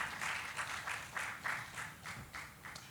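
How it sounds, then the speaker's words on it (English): An audience at a panel discussion gives a round of applause, steady clapping from many hands carried at moderate volume, with a faint voice mixed in underneath. "A round of applause for her,"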